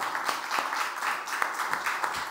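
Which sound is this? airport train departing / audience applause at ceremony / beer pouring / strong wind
audience applause at ceremony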